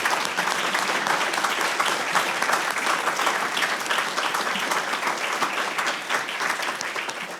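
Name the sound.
audience giving a round of applause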